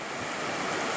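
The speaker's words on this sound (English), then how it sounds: "It's raining again." Steady rain falls on the Appalachian Trail near Black Brook in July, a dense, even hiss that fills the short moment with no voices.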